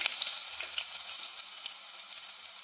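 Steady hot-oil sizzle of ginger frying in a pan for chicken curry, a dense crackling hiss with small pops, close and continuous throughout.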